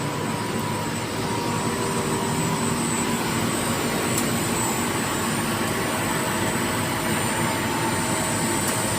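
A delivery truck's engine idles in a steady, unbroken drone with a broad hiss, constant and fairly close throughout.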